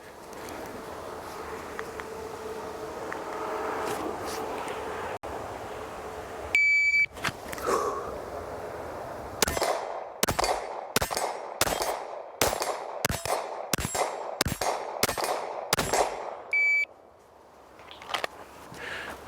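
A Glock 19 handgun fired in a rapid string of about ten sharp, loud shots at a 40-yard steel target, evenly spaced over several seconds, preceded and followed by shot-timer beeps in an open outdoor setting.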